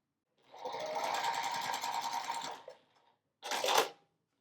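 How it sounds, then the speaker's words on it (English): Sewing machine stitching a pumpkin block for a charm pack quilted wall hanging, a steady continuous whirr of rapid stitches for about two seconds, a brief pause, then a second short burst, close and alone. "I'm going to just sew this top here on to the pumpkin."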